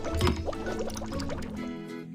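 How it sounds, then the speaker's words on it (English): Engine fluid glugs and splashes as it pours into tanks in a children's truck and car repair video game, a short, close liquid fill sound that tails off near the end. "Pour engine fluid by color into tanks."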